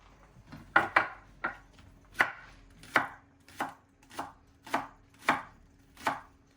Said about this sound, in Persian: حالا ما سیر دوتا میکنیم. مرچ دوتا میکنیم.